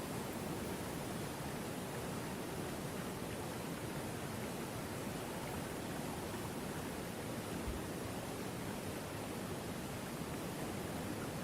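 Waterfall near a cabin in an animated short played back on a stream, a steady soft broadband rush of falling water with no variation, faint and continuous throughout, no voices.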